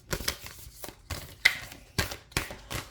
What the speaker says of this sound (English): So let's go ahead and pull an oracle card.